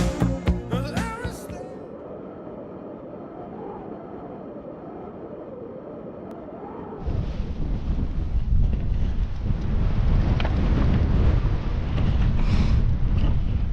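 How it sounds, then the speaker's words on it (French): Strong wind roars and buffets the microphone in a loud, continuous rush in the Mauritanian Sahara, taking over after a quieter opening stretch of faint music. "Comme d'habitude, vers 9 h, le vent se lève."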